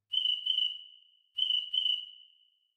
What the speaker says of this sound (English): And you'll hear the chirp chirp.